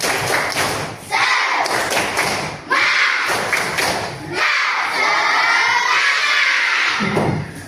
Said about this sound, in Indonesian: Boleh tepuk semangat dulu?